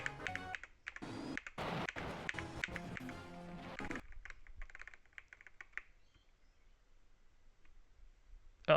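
Rapid computer keyboard typing rattles up close in dense bursts for several seconds, then drops to sparse, quieter key taps and near silence before a final sharp click.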